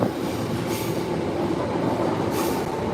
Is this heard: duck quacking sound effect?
no